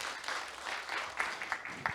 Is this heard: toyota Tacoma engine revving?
no